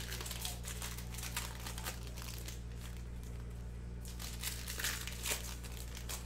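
A box of 2019-20 Panini Clearly Donruss basketball cards having its packaging opened: close, crisp crinkling and crackling of plastic wrap in irregular bursts over a steady low electrical hum.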